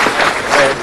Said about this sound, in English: That is worth more applause.